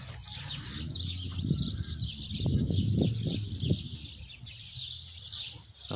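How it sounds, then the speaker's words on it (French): Birds singing outdoors near a farmyard henhouse, bright chirps and tweets running throughout at moderate distance, with a lower cooing or rustling murmur in the middle. "Écoutez ces oiseaux, je sais pas si vous allez les entendre."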